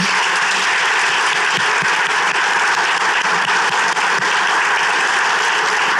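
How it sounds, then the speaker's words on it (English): Loud, unbroken applause from a crowd at a summer soiree fundraising gala, dense even clapping sustained throughout with no talking over it. "So please give them a round of applause as well."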